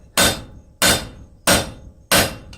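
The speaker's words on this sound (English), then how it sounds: "I switched to my 3-pound hammer" Four heavy, ringing blows from a three-pound hammer forging hot metal land at a steady, unhurried rhythm, loud and close, with short decaying rings between blows and no talking.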